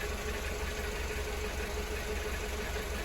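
A 2007 Suzuki SX4 engine, suffering a slight stumble at idle, holds a steady idle with a continuous low mechanical hum, close and unbroken.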